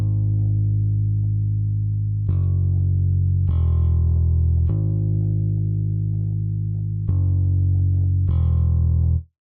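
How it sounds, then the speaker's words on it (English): MODO BASS virtual bass in FL Studio playing a simple chord progression, deep sustained tones with a gritty, effected edge, changing notes every second or so, ending with an abrupt cutoff. "That's our modo bass or modo bass."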